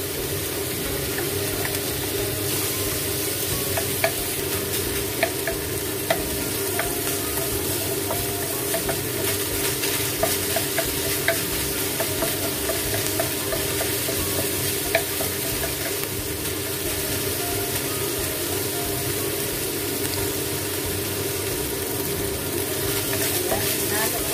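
Chicken is stir-fried in a pan for a Chinese-style chao pan, giving a continuous sizzle with frequent clacks and scrapes from stirring, while a voice talks over it at intervals.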